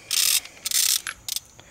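A wrench ratchets a 13/16 nut loose on a Dodge RAM 2500 V-10 truck, giving several close, loud bursts of metallic clicking separated by short pauses.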